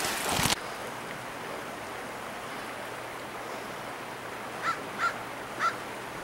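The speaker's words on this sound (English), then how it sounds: "Ah, there he is. Brother Crow." A crow caws three times in a row toward the end, distant and fairly faint over a wet outdoor background with a steady low hum, after a brief loud rustle at the start.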